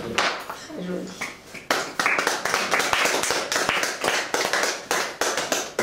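Audience at a French poetry evening claps after a poem is read, a dense patter of hand claps with sharp individual taps standing out, continuing steadily at moderate loudness while voices murmur underneath.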